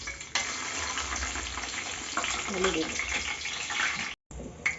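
Bay leaf, cinnamon and cloves crackle in hot ghee and oil at the start of a home biryani, a continuous busy sizzle with some clatter and a short dropout near the end.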